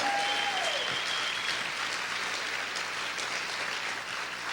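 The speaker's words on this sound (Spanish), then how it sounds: "Vamos a aplaudir fuerte al Señor." A congregation claps loudly and steadily at a church service, the applause filling the whole stretch with only a faint tonal sound early on.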